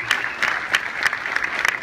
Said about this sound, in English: Give him a round of applause for that one